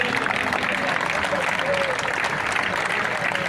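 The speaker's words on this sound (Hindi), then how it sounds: "जब तक मंच पर आए जब तक तालियां बजती रहनी चाहिए।" Sustained audience applause at an all-India poetry gathering, steady and dense clapping from a large crowd throughout, with a faint voice or tone showing through underneath.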